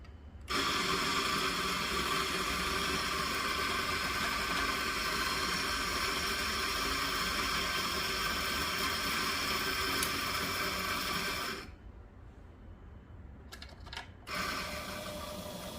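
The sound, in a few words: coffee grinder grinding espresso beans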